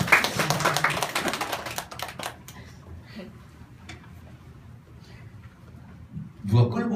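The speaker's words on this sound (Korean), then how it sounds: "우리 박수 한번 쳐줍시다" A small church congregation claps briefly and loosely at a Bible lecture, a short burst of scattered hand claps at the start that fades out, with a few isolated taps and a closing clap later.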